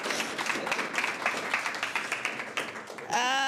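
Audience applause at a youth entrepreneurship programme launch: steady, moderately faint clapping from a crowd for about three seconds, cut off by a voice at the end.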